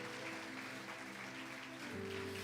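A church congregation claps in praise during a worship service, steady applause continuing throughout with sustained music tones underneath that swell near the end.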